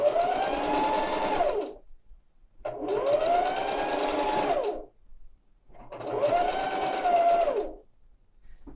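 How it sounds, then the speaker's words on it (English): A sewing machine stitches around the edge of wrap pants at the 1/8 inch mark, running in three steady bursts of a couple of seconds each with short pauses between, its motor whine rising and falling. "So I've been sewing around the edge at the 1/8 inch mark"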